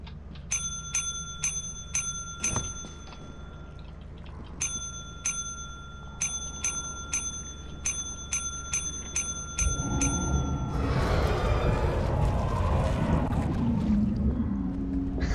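Bell button in the video game Lethal Company clicked repeatedly, bright metallic dings in quick rhythmic bursts with a pause between runs, then giving way to a louder rumbling wash of noise.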